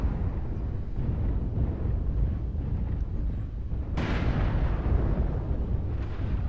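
A heavy explosion as a mech is destroyed in the game MechWarrior Online, a sudden loud boom breaking through a constant rumbling battle din, with the blast tail lingering afterward and no speech.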